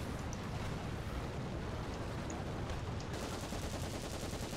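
Machine gun fire in War Thunder, a dense, continuous rattle of rapid shots mixed with engine rumble and wind-like noise, steady and loud throughout with no voices.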